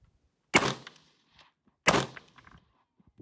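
Two sharp rifle shots fired outdoors at night, about 1.3 seconds apart, each a loud close crack with a short decaying tail, followed by faint scattered movement noises.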